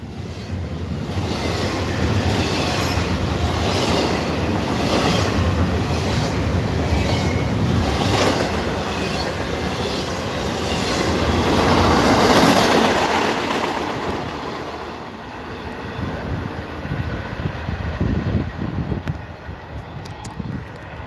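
A train rumbles past, its clattering roar building to a loud peak and then fading away, with no voices.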